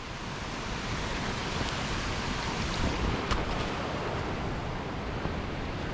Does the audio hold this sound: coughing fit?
no